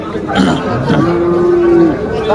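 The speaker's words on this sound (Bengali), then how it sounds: "এই যে শাহিওয়াল লাল জাতের একটা গরু আছে" A red Sahiwal cow moos once in a long, steady, sustained low call at a cattle market in Faridpur, loud and close, with crowd chatter behind it.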